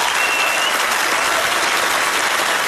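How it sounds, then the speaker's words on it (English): Dense, steady applause from a large television studio audience at a magic show, loud and continuous throughout. "Maybe, just maybe you're applauding because you think I am Jesus."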